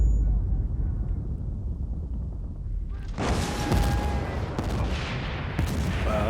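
Bursts of gunfire in Battlefield 1943, played online on Xbox Series X, start after a quieter rumbling stretch and come as loud repeated shots and blasts over a busy battle background.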